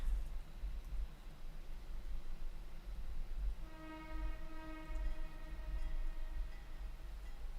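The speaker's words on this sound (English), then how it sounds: "Nice little reverb on that whistle there." A train whistle sounds midway through, a long steady multi-tone blast with a touch of reverb, over a constant low rumble of a running engine, in the train simulator game Trainz 2019.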